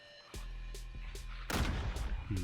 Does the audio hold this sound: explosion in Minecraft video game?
yes